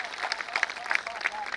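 Thin, scattered applause from the audience at a Hindi kavi sammelan poetry gathering, a few hands clapping unevenly at moderate distance with a voice speaking over it.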